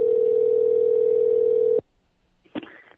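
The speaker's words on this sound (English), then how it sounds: "I'm calling his cell phone." A single steady telephone ringing tone sounds while a cell phone is being called, holding loud and unbroken for nearly two seconds, then stops abruptly, leaving silence before a brief faint voice-like sound.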